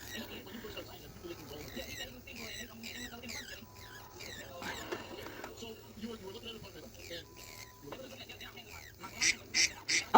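A phone ringtone imitating a duck sounds with repeated quacking calls, mixed with faint background noise and brief sounds, growing louder toward the end.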